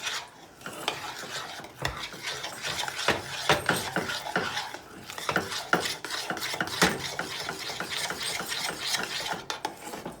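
Homemade play-doh dough with flour is stirred by hand, making a steady, gritty scraping and clicking rasp of rough, irregular strokes, close and fairly quiet, with no talking.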